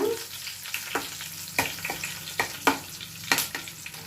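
Chopped green chillies fry in a pan with a steady close sizzle, broken by several sharp scraping stirs of a spoon at irregular intervals.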